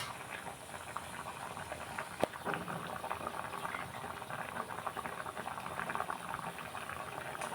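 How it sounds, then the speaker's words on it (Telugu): Goat brain curry boils hard on full flame, a steady close bubbling and popping patter that runs evenly throughout, with one sharp tap partway through. "ఫుల్గా మంట పెట్టేసా. ఉడుకుతుంది."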